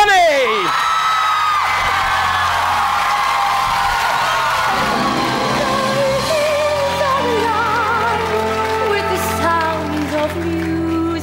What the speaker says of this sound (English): That scream you did, I don't think that came from the diaphragm. I think you just screamed.